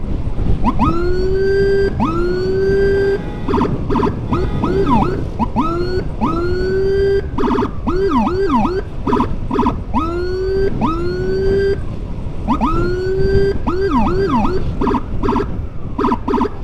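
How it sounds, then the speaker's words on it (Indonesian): Wailing emergency siren from an ambulance during a road escort, loud and continuous with rapid yelping sweeps over steady traffic rumble, no talking. "di depan ada ambulan"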